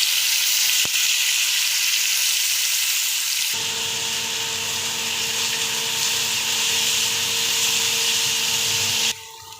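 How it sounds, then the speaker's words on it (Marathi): Chopped onion, green chili, garlic, coriander and tomato hit hot oil with a loud, bright, continuous sizzle that holds steady throughout, with a faint electrical hum in the background, then drops suddenly near the end. "तेल गरम झाले, आता आपण हे त्याच्यात टाकून घेऊ।"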